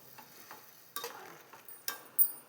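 Vermicelli (shavige) being mixed into boiling water in a pot for upma, a few soft scraping stir strokes and clinks spaced out over a quiet background, close and fairly faint, with no voices.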